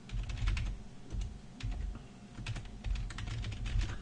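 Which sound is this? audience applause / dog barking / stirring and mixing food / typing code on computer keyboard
typing code on computer keyboard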